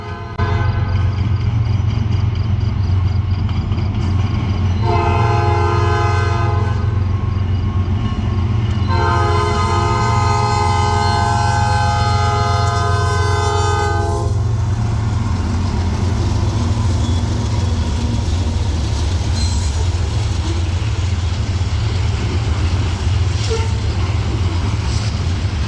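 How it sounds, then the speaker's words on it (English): A heavy loaded CSX ethanol freight train rumbles steadily past nearby at night while its air horn blasts in two long sounds, the low rolling noise continuing throughout. "here came what I had been waiting on. CSX train B627, a loaded ethanol train for Charlotte"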